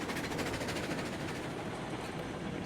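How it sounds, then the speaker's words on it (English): A rhythmic mechanical clatter of a video game train in RailRoads Online rolling and slowing down, steady and fairly close, with no voices. "Stopping this here train pretty quick."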